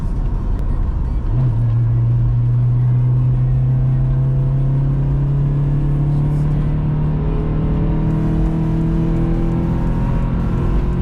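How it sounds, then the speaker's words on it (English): MG ZR Atomix engine holding a steady, loud drone in fourth gear through a corner on a Scottish road, the tone climbing slowly as revs build after a downshift, with continuous road rumble beneath. "down gear to fourth. We're gonna just rock this corner in fourth."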